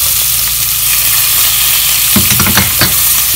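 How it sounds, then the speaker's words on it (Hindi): Onions frying in hot oil with crushed cumin give a loud, close sizzle, joined near the end by a few scraping stirs of a spatula against the pan. "जीरा फ्राई कर लेने के बाद इसमें प्याज शामिल कर लें।"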